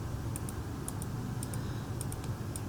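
Mouse clicks while tracing a selection in Photoshop: crisp, evenly spaced double clicks repeating in a steady rhythm, close and fairly clear over a constant background hiss.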